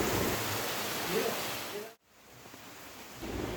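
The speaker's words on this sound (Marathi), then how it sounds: "सकाळपासून पहाटेपासून खूप जास्त पाऊस पडतो आहे." Heavy monsoon rain in rural Konkan, a dense, steady hiss of downpour that cuts out briefly and then returns just as full.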